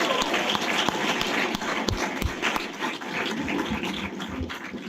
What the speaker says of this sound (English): A big round of applause to the two VCs.